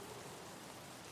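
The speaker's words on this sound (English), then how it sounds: "No, that was rain." Rain falls steadily in the video game Escape from Tarkov, a faint, even hiss of drops on surfaces with no other sound.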